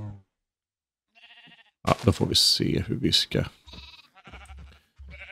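Sheep in Minecraft bleat several times in quick, wavering bursts up close, mixed in with someone speaking.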